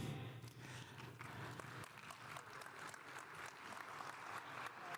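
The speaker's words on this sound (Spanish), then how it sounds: "¿Sí ves lo que es un aplauso de este público?" Audience at a Spanish-language professional talk applauding, a sustained patter of many hands clapping together, moderately loud and steady throughout with no speech over it.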